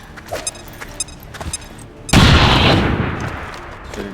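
A frag grenade goes off with gunfire in XCOM 2. A few light clicks and shots come first, then one sudden loud, close blast with a broad roar that fades over the next two seconds.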